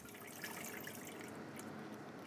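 Water poured into a bowl for pizza dough, a steady close splashing trickle that runs unbroken throughout at low level.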